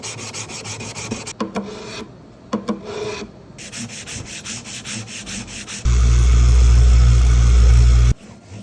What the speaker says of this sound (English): we're gonna go ahead and level and crown these frets